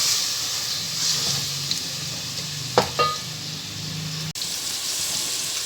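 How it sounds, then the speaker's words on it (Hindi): Minced beef keema frying in a cooked masala with a constant loud sizzle and hiss, broken by a couple of sharp stirring clinks partway through. "कीमा हमने शामिल कर दिया है। कीमे को हम थोड़ा सा इसमें भूनेंगे अबाउट 5 मिनट्स।"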